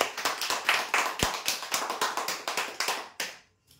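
Scattered audience claps ring out in an uneven rhythm at a weekly prize draw event, a fairly close burst lasting about three seconds before it suddenly stops.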